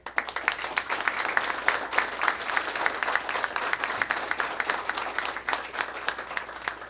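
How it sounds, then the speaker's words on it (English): An audience at a county school board meeting gives a steady round of applause for the coaching staff, dense continuous clapping from a modest crowd at moderate distance, without speech. "Let's give these guys a round of applause."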